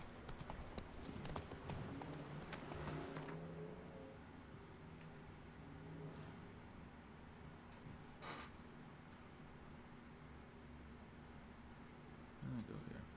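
Steady clip-clop of a horse's hooves from The Witcher 3: Wild Hunt, a quiet, even rhythmic trot running throughout with game ambience and a few faint incidental sounds.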